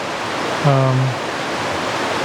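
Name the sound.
creek water flowing, Betty's Creek in northeast Georgia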